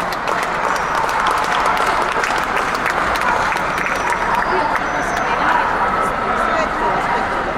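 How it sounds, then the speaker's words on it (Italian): Audience applause at an international dog show in an indoor arena during a winner's lap of honour, steady massed clapping mixed with dogs barking and a voice speaking over it. "giro d'onore, applauso del pubblico"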